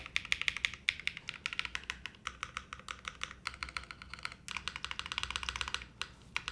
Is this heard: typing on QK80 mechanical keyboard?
yes